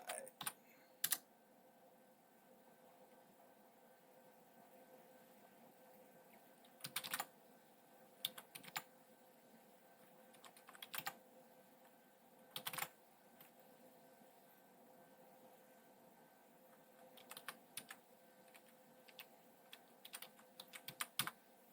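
Keys on a computer keyboard clack in sparse, quiet bursts, with a few sharper keystrokes standing out over a faint steady background hum.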